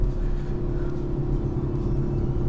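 An Audi RS 4 or RS 5 Competition Plus engine pulls at full throttle on a race circuit. It gives a loud, steady rumbling drone from close by with no talking.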